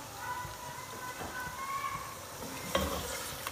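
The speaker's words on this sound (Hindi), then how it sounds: "अब हमने करनी है गोश्त की अच्छी तरह से भुनाई" Bone-in beef being bhuna-fried in a pot for nihari, a continuous low sizzle with occasional stirring scrapes and a clank near the end, close and moderately quiet.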